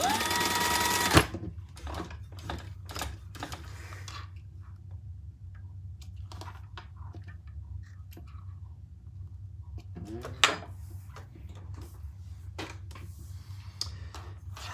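A sewing machine stitches a strap end for a small black-and-leopard crossbody bag, running in a steady close rhythmic chatter after a brief louder burst at the start, with occasional clicks and thumps.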